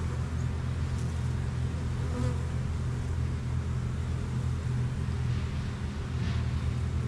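A dense swarm of honeybees drones at a hive during almond pollination, a continuous low, steady buzz close by with faint individual wingbeats flickering above it and no talk.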